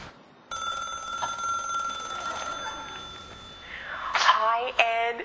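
A telephone in the Big Brother Australia house rings after dialing, a steady electronic ringing tone that starts abruptly and holds, followed by a burst of brighter, busier sound and a voice near the end.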